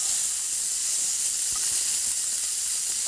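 Freshly flipped, seared pork chops sizzle in a hot pan with a steady, bright hiss that stays even and close throughout, with only faint clicks beneath it.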